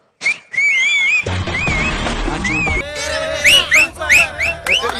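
A person whistles a series of rising and falling notes on a cooking competition show, loud and close, with crowd noise and voices mixed in around the melody.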